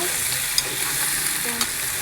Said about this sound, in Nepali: अब मासुलाई एकदम रातो हुँदैछन् भुट्नुपर्छ।